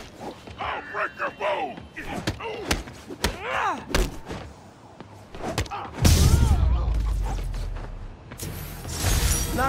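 Spider-Man pummels and knocks out drug dealers in the PS4 game Marvel's Spider-Man: a rapid run of close, sharp punches and thuds mixed with shouting voices and grunts, giving way to a louder rushing, crashing swell in the last few seconds.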